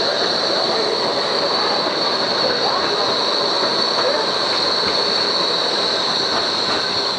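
A train rolls steadily past at a large Berlin railway station with a constant roar and a high metallic squeal from the wheels, loud and close throughout.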